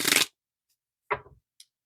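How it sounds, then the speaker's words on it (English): Tarot cards are shuffled at a full moon pick-a-card reading: a short, dense riffle up close, then a softer flutter of cards a second later, with a few faint ticks in between and otherwise quiet. "I'm just going to give it a shuffle."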